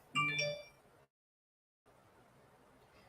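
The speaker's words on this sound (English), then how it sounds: "I need to turn off my notifications on my phone" A phone notification chime rings out as a short, bright series of tones at close range, followed by a stretch of silence and then a low background hiss.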